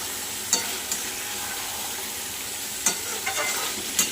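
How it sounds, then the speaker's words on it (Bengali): Chicken sizzles steadily in a hot pan, a constant frying hiss broken by a few sharp scraping stirs of a utensil. "এটা সুন্দর করে মাংসটা কষাতে হবে"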